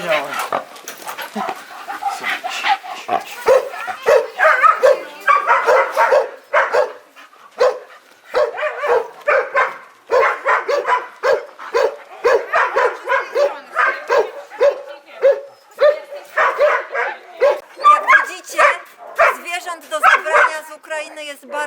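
Many dogs being evacuated from Ukraine bark and yip in a loud, continuous chorus, close by and overlapping, with some whimpering mixed in and voices heard among them.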